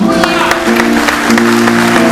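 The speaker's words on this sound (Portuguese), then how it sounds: "Uma salva de palmas para Jesus" A congregation at an Assembly of God workers' meeting in Guarulhos applauds for Jesus, loud steady clapping blended with sustained organ or keyboard chords and crowd noise.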